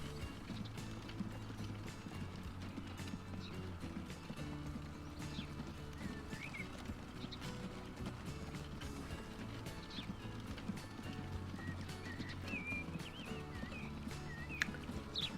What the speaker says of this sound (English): It's always amusing watching those little horses running at